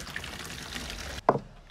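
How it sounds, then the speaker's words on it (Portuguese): A brief splash and gurgle as a little water is poured into a plastic bottle being prepared as a bottle rocket, close and fairly quiet, following a short stretch of hiss. "Agora o outro outro passo é botar um pouquinho de água aqui dentro."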